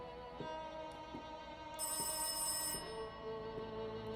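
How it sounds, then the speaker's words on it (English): A telephone rings repeatedly in the Rise of Insanity video game, with steady electronic ring bursts and a brief high-pitched tone partway through, heard alone without talk. "Oh, phone's ringing."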